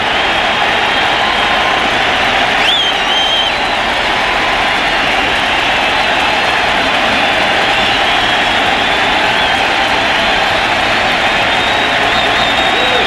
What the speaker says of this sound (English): this crowd will crank it up, expecting to see strikeout number 4 on the night